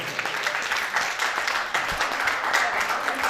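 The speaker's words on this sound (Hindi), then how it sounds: "एक बार जोरदार तालियां बजाइए।" An audience gathered for a birthday celebration at Vatsalya Gram claps heartily on request. The close, loud, sustained applause has uneven bursts throughout.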